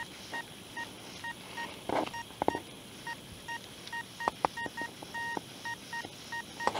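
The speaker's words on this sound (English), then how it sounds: "But that's just a delicious sounding 90 on the Simplex." Faint, repeated short beeping tones from a Nokta Simplex metal detector signaling a target, pulsing in quick bursts over a quiet outdoor background.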